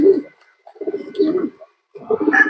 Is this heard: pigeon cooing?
yes